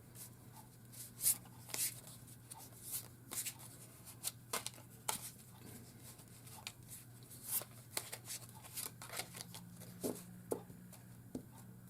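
Oracle cards being shuffled and drawn, a quiet, close series of soft papery flicks and taps coming in irregular bursts over a faint steady hum.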